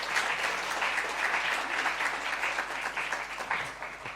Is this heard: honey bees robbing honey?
no